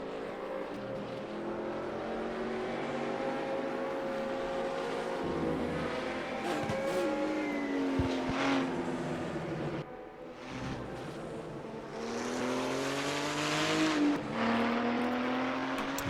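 A Group 5 race car laps the quick Salzburgring circuit in RaceRoom, its engine droning steadily and climbing through revs, dipping briefly on a lift before surging again, loud and continuous with no voices.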